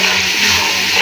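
Water is poured into a cooking pot of goat trotter curry, a steady close-up splashing and hissing wash with no voices over it.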